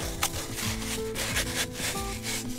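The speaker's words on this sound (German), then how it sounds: "Nun wird der Beton angerührt." Lean, earth-moist concrete is mixed by hand for a drainage channel installation, making a continuous close scraping and rubbing grind with irregular gritty strokes that stays steady and fairly loud, with no voices.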